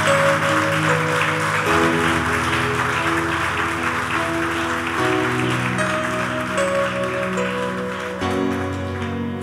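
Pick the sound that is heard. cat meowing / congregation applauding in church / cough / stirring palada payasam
congregation applauding in church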